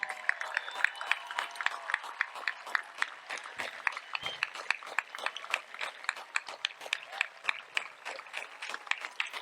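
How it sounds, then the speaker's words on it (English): Graduation crowd at a high school commencement clapping for police officers and firefighters, a dense steady round of applause heard from some distance, with a few voices mixed in. "also stand please for a round of applause"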